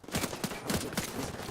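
Gunfire in a first-person shooter video game, a rapid run of sharp, punchy shots in quick bursts, moderately loud, no speech over it.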